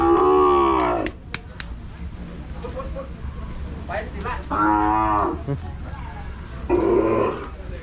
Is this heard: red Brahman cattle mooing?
yes